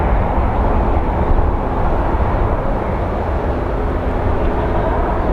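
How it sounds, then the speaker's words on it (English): A Delta airliner bound for Salt Lake City at Phoenix Sky Harbor airport gives off a steady, loud broadband jet roar that holds evenly throughout with no voices. "So here we have our Delta that's going to Salt Lake City."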